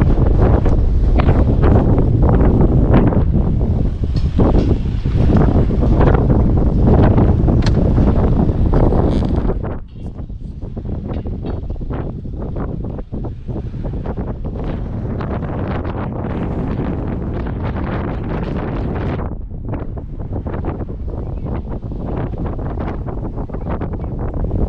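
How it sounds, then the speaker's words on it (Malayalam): Strong wind outdoors in County Kerry, Ireland, loud and blustery as it buffets the microphone close up, roaring continuously with gusts and no speech. "നല്ല കാറ്റുണ്ടേ, നല്ല കാറ്റുണ്ട്."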